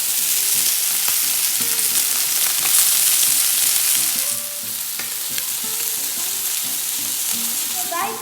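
Chicken breast sizzling on a grill pan, a loud, dense and continuous sizzle with faint crackles throughout, heard close up with no one talking.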